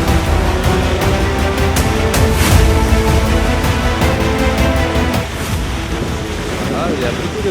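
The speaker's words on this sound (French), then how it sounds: "Ah, il y a beaucoup de vagues." Choppy Caribbean sea waves wash and slap around a sailboat under way, with a loud continuous rush of water and wind buffeting the microphone throughout.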